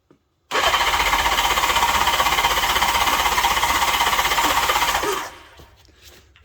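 Project motorcycle engine that starts hard when cold: a sudden burst into a loud, rough, rapid-firing run held for several seconds, then abruptly cut off, leaving faint background noise.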